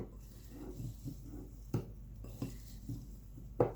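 Strawberries being mixed with sugar in a bowl, soft wet stirring and scraping with a few sharper utensil knocks against the bowl, close and quiet, spaced irregularly with no talking.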